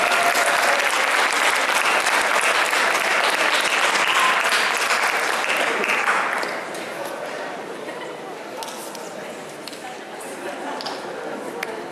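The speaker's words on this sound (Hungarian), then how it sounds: "Neki még nagyobb tapsot kívánunk." Loud, dense applause from an audience at an anime convention awards ceremony, greeting the advanced dance pad contest winner; steady clapping that eases slightly partway through and continues to the end.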